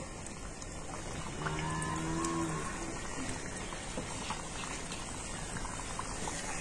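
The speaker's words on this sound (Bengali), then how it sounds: "আর এবার আমি বিস্কুটগুলো তেলের মধ্যে দিয়ে দেব।" Homemade flour biscuits fry in hot oil in a frying pan, a soft steady bubbling fizz that swells slightly after the first second and holds evenly, with no voices.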